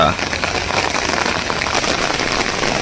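A loud, unbroken downpour of torrential rain during a fishing trip, dense splashing hiss filling the whole stretch without pause.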